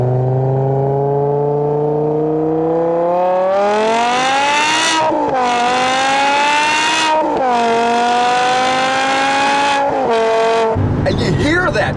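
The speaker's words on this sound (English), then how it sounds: "When you get on it, you hear that wail, that sound of the old school F1s" A 2008 BMW M5 E60 V10 climbs through the revs with a rising, high-pitched wail, then pulls hard through several upshifts, each dip followed by another howling climb, loud and close from inside the car.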